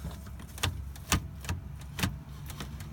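Mechanical clunks from a Firebird/Camaro automatic shift linkage as the shifter is worked through the gears, with about five distinct clicks spaced roughly half a second apart over a low idle-like hum.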